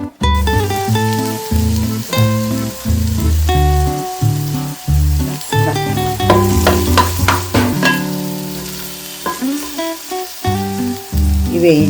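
Onion and green chillies frying in a pan with ginger-garlic paste and curry leaves added, loud close sizzling broken by repeated ringing clanks and scrapes of a metal spatula against the vessel.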